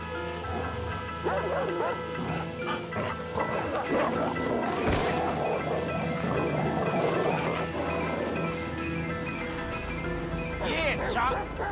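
The dog Chop barks and yips in GTA V, close and excited, over a busy game soundscape with music and clatter, while someone talks throughout.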